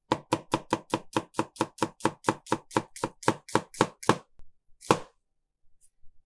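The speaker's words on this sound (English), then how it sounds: "Thin slice the onion." A knife thinly slicing an onion on a board, about fifteen quick, evenly spaced chops in a steady rhythm, close and crisp, then a pause and one last cut.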